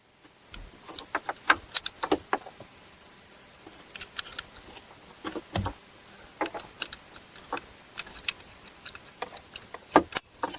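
Electrical connectors snapping into a new turn signal switch on a Pontiac Grand Prix, heard as scattered sharp plastic clicks and rattles at close range, faint and irregular over quiet handling noise.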